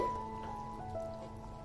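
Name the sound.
curry boiling in a pot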